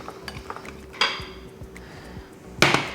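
A utensil mixes plant-based white base cream in a bowl, giving soft, irregular scraping and tapping strokes. Two sharper clinks of metal against the bowl stand out.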